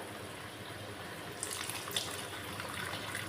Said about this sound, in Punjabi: ਹੁਣ ਆਪਾਂ ਇਹਦੇ 'ਚ ਐਡ ਕਰਾਂਗੇ 1 ਕੱਪ ਗਰਮ ਪਾਣੀ ਦਾ